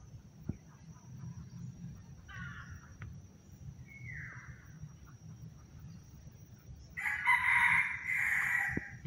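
A free-roaming wild rooster crows loudly at close range near the end, after fainter calls and a rustling, low-level background.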